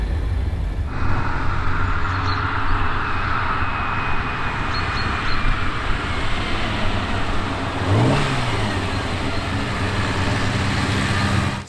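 A Ferrari 365 GTB/4 Daytona Spider engine revs and pulls away, a loud steady mid-pitched drone holding throughout with a brief rise in pitch near the end.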